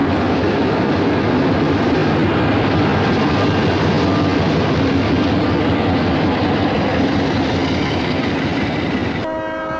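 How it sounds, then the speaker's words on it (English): Lehigh Valley Railroad eastbound freight train passing near Tannery Crossing at about 55 mph, a loud, continuous roar of wheels and rail clatter close by, steady for nearly the whole span before cutting off. "Here comes an eastbound COJ 32, about 55 miles an hour, going just east of Tannery Crossing."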